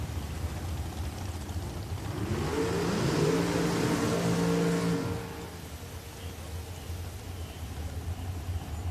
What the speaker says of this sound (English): This is the dragster portion of our field